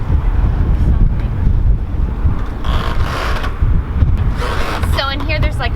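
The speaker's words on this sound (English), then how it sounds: "The wind's stronger than the current" Steady wind buffets a sailboat lying at anchor, where a current and the wind push on the beam. It is a constant low roar close to the microphone, with faint voices near the end.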